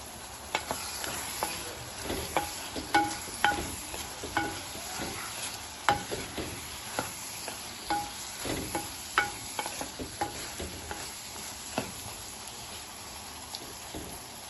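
Dried fish curry ingredients with a pinch of turmeric sauté in a pan, giving a steady soft sizzle broken by repeated scraping stirs of a spoon against the pan, close and moderately quiet, with no talking.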